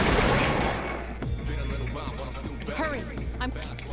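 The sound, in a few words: Agi fire spell cast repeatedly, from video game Persona 3 Portable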